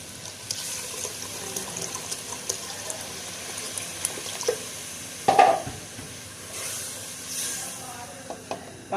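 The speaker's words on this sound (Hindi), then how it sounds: "अब मैं इसमें पानी डाल दूँगी।" Water is poured into a pot of daal gosht that is being cooked with oil, making a steady splashing and trickling with one louder slosh partway through, close by and moderately quiet.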